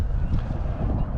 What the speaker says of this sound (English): Sorry if it's whistling. That pole back there is just getting after it. It's so dang windy, guys.